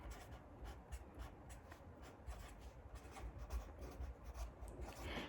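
Pencil or marker scratching out words on a worksheet, close and quiet, with steady short rubbing strokes and a few small taps, no talking.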